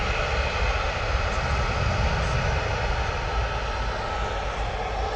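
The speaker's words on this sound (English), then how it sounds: "next out is this TUI off to Mahon" A TUI airliner departing Manchester Airport for Mahon roars with steady, loud jet engine noise for a few seconds, dense and unbroken, without voices.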